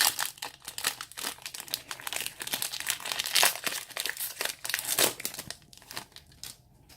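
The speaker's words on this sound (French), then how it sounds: "On va s'ouvrir le deuxième booster." A Dragon Ball Super Union Force booster pack being torn open, close crinkling and crackling of foil wrapper in rapid irregular bursts, fading toward the end.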